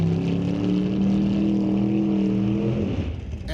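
A 2017 Chevy Camaro drag car at NHRA sportsman qualifying roars with a loud, sustained engine drone that holds steady before starting to fade near the end.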